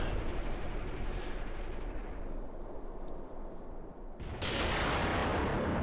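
Artillery fire in the video game Graviteam Tactics, a dense continuous rumble of distant shell bursts and booms that dips briefly, then surges back louder, with no voices over it.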